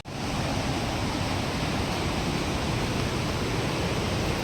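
Tarabu waterfall thundering with rushing water, a loud, steady broadband roar that stays constant throughout with no voices.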